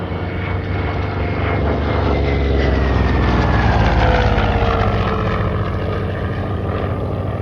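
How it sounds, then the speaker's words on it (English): A Grumman-era F6F Hellcat propeller warplane at an aircraft collection in McMinnville, Oregon, roars past loudly, its engine drone swelling to a peak midway and easing off with a falling pitch. "That was the airplane, Ken, best known as the Zero Killer, going up against those Mitsubishi A6M0s of the Japanese Imperial Navy"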